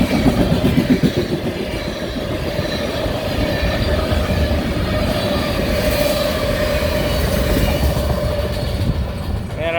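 A fast train rushes past a level crossing in Miamisburg on a rainy day, loud and close, with continuous rumble, rhythmic wheel clatter and a faint squeal throughout.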